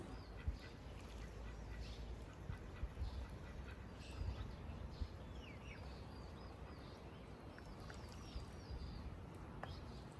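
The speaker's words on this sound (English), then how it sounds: "From here, you can even see our neighbors' chickens and ducks." Ducks and chickens kept by neighbors near a house in China, with faint scattered quacking and bird calls over steady outdoor background noise.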